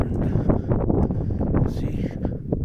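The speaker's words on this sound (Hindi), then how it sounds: "खूबसूरत और ठंडी हवा चल रही है, इट्स ब्लोइंग कूल" Cool wind blows steadily at a scenic mountain viewpoint on the road from Quetta to Kalat, producing a loud, constant rumble of buffeting against the microphone with a faint voice beneath it.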